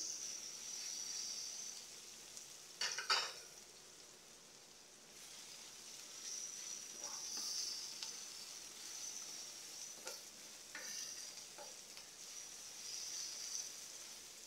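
Onion frying in a pan for ginataang sitaw, a soft steady hiss of frying with a few light stirring scrapes and clinks, fairly quiet and continuous.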